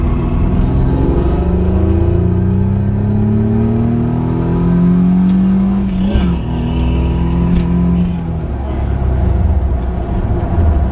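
Mazda RX-7 FC fitted with a swapped Nissan V6 accelerating hard in third gear, a loud close engine note climbing steadily in pitch before easing off, with a few words spoken.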